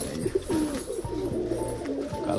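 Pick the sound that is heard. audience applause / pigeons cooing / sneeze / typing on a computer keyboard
pigeons cooing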